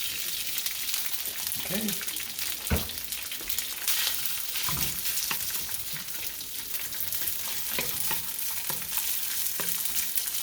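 Day-old white rice frying in a pan for turmeric fried rice with ham, a steady loud sizzle with scraping stir strokes and occasional clanks throughout, with brief talk over it.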